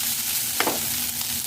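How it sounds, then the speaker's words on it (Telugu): Rice being stirred into fried grated carrot in a hot pan: a continuous soft sizzle with a single close scrape of the spatula. "ఇప్పుడు దీంట్లో రైస్ వేసుకొని కలుపుకుందామండి."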